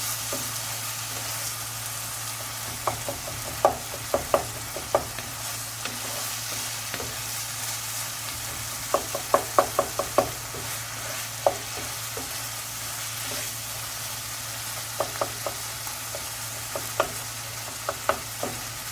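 Steady sizzling of an eggplant mix frying in a pan, with scattered clinks and scrapes of stirring now and then, close by and without any talking.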